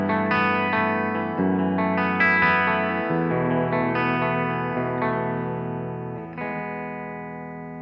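Electric guitar played through the bridge pickup into a Bugera G5 Infinium tube amp head on a clean tone with reverb: sustained chords ring out loud and alone, each swelling then decaying into a reverb tail.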